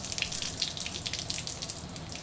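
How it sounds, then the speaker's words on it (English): Slow trickle of water poured into a small plant pot, a steady soft splashing and hiss that runs continuously for the whole stretch with no talk over it. "Just a really slow trickle of water."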